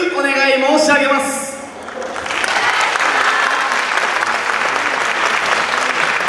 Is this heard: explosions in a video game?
no